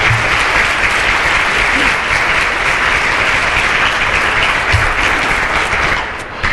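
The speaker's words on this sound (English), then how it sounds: "Let's give them a round of applause" Sustained applause fills a breakfast hall as a volunteer-event audience claps steadily for sponsors from Rockwell Collins, dense and even throughout before tapering slightly at the end.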